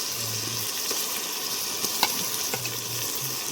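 Green chilli, ginger and garlic frying in oil for Palakkadan biryani masala, a loud, steady, dense sizzle up close with a few light scraping stirs and faint clicks.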